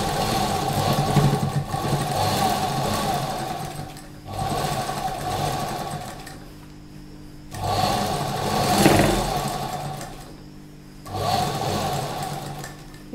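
A sewing machine stitching a fabric strip on a slip runs in four long bursts of steady whirring, separated by short pauses, close and fairly loud.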